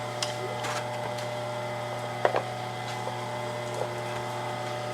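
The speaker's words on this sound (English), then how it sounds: "Got my lathe set on the lowest speed setting." A wood lathe set to its lowest speed hums steadily with a constant low drone and a few faint clicks and taps, running alone for a Queen Anne side table build.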